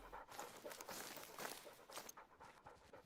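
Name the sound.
pet dog panting and moving around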